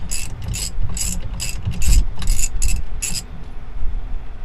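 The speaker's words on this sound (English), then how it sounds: "We're gonna bust this, loosen up this nut." Ratchet working a nut loose on a Peterbilt truck steering wheel, heard as a run of about eight rhythmic clicking bursts over low mechanical rumble, close and loud, with no talking.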